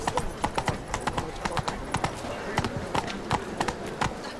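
Roach, a horse in The Witcher 3 video game, gallops with a steady run of sharp clip-clop hoofbeats, loud and close, while game voices speak faintly in the background.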